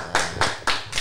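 A few people clap in a podcast studio, three distinct bursts of close, sharp clapping with short gaps between them and no talking.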